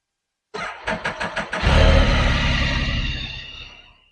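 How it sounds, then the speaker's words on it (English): A motorcycle fitted with LED night rider lights cranks over in about five quick, even turns, then catches and roars into a steady close idle that slowly fades. "Let me start the bike up now."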